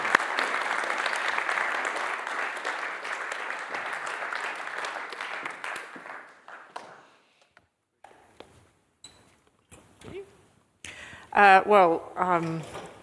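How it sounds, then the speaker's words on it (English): A round of audience applause at an evening talk event, loud and dense at first, then thinning out to scattered claps and quiet room sounds before a voice speaks near the end. "can we just give one more round of applause, please, for David, because he's been phenomenal."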